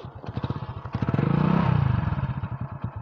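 A KTM Duke motorcycle with stock exhaust idles and pulses with a steady rhythmic thump, briefly swelling louder in the middle, heard up close with no talking.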